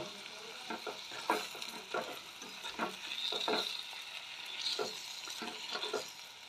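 Dried fish curry with salt, tomatoes and fenugreek leaves being stirred in a hot pan: steady sizzling frying with repeated scraping strokes of a spoon, close and moderately loud, no voices.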